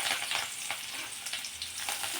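Fresh coriander leaves crackle and sizzle in hot oil tempered with mustard seeds and cumin, a steady close frying hiss with small pops throughout and no talking.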